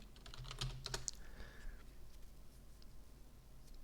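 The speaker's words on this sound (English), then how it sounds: "and then you can type in Zork" Faint typing on a computer terminal keyboard, a quick cluster of key clicks early on, then quieter scattered taps over a low background hum.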